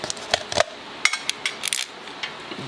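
Small metal screws clink and tap as they are set into the clutch cover holes of a Yamaha Royal Star motorcycle during a Barnett clutch upgrade, a handful of brief, sharp contacts scattered across a quiet background.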